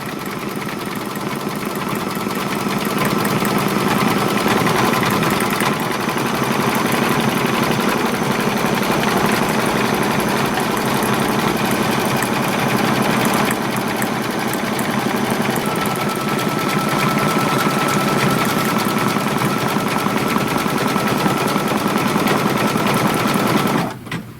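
A Kimberbell embroidery machine sews a triple stitch, a loud, continuous rapid mechanical chatter of needle strokes running unbroken for over twenty seconds with no voices.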